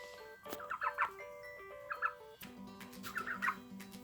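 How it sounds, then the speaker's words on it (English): Baby turkey poult indoors, giving repeated high thin peeping calls in short bursts, close by and fairly quiet over a soft background. "I got the little baby turkey in here"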